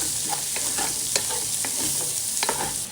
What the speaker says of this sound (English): We are preparing a large pot of spaghetti, so hence a lot of onions. Yes. So give it a stir.